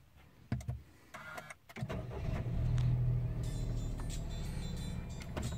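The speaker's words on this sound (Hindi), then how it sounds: "अब मैं एक्सेलरेट करूँगा गाड़ी 30 किलोमीटर की स्पीड पर" A Daihatsu Move moves off and accelerates to 30 km/h: a few clicks and thumps inside the car, then the engine hum swells and holds steady as it gains speed.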